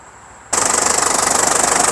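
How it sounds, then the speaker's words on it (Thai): After a brief quiet moment, the 3.0-litre turbo diesel engine of a 2004 Isuzu D-Max automatic four-door pickup fires up and settles into a loud, steady, rhythmically pulsing idle close by. "เดี๋ยวสตาร์ทฟังเสียงเครื่องยนต์นะครับ"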